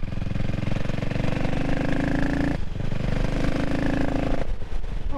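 CCM Spitfire Six motorcycle engine running close by with a steady, throaty rumble and rising and falling engine tones, loud and continuous throughout.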